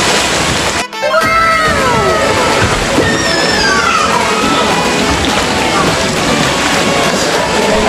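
A person jumps into cold river water at a forest resort, a splash and sloshing surge followed by bright shouts and chatter from people nearby.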